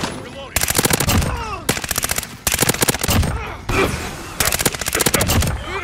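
An ISO submachine gun in Call of Duty: Modern Warfare fires in about four rapid automatic bursts, loud and close, separated by short gaps.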